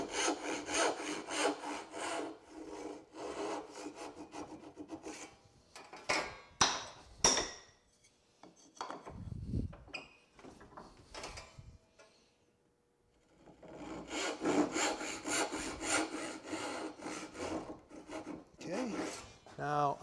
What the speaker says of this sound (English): I'm gonna make a straight kind of, this is just to cut, to notch the top of this tenon.